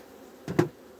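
A honeybee buzzing at a beehive, a brief faint single buzz that rises sharply and fades within a fraction of a second against quiet background.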